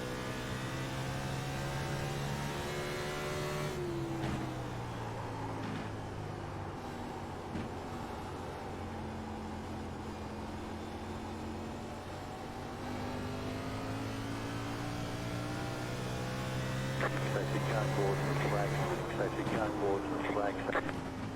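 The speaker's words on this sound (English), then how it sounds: "Let's ride on board with Christian here for a lap or two. Just listen to the car." Onboard engine sound of a race car in a racing video game at New Hampshire Motor Speedway, a steady droning whine that rises and falls in pitch through gear changes and corners over a lap, fairly quiet overall.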